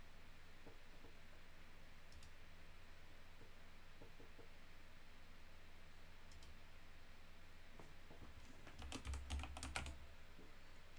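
Computer keyboard typing, very faint, with scattered isolated clicks early on and then a quick burst of rapid keystrokes near the end over a low steady hum.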